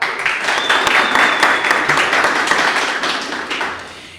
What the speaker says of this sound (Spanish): Mexicano como Arim García y Anita González, por favor, también un aplauso.